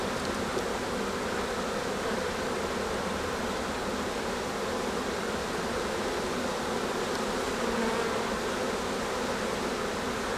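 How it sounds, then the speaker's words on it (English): Honeybees at an opened hive during an inspection make a dense, continuous buzzing drone that fills the whole stretch, steady and close with no talking. "So the bees are venting and marching to the hive."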